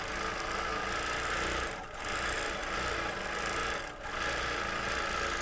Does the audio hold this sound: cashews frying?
no